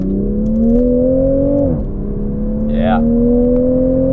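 Engine drone of a 350-horsepower Toyota Supra while driving, a steady low hum rising slowly in pitch with a brief dip as it shifts, carrying on under a short spoken reply.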